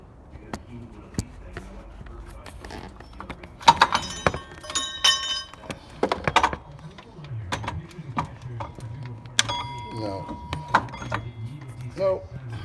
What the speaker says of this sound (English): That what you heard fall was that bracket I was telling you about that we took from underneath.